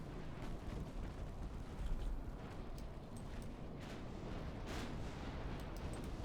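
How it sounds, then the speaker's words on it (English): Torpedo detonation against an enemy cruiser in the naval warfare game Ultimate Admiral Dreadnoughts: a continuous low, rumbling explosive roar with a slight swell near the two-second mark, steady and loud throughout. "Torpedo detonation on the enemy cruiser."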